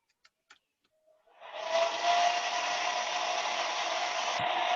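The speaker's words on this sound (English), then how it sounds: "Oh, I hear somebody's hair dryer." A hair dryer switches on after a few light clicks and runs with a steady, loud whooshing hum until the end.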